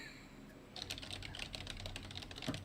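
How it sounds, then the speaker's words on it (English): Someone types on a loud computer keyboard during a live Q&A stream. Fast, close clattering keystrokes start after a short quiet stretch and continue in uneven bursts, with no speech. "Yes, Terry does not have a silent keyboard."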